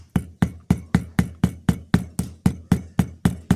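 About thirteen light, evenly spaced hammer taps ring out close by as a pocket knife pin is set against an anvil, each strike sharp with a short metallic decay.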